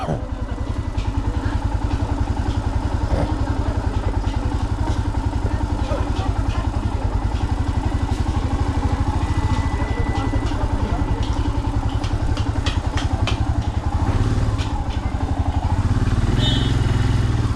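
A Royal Enfield Himalayan motorcycle engine idles near and steady with a constant thumping throb, joined by light clatter and a rider's voice over it.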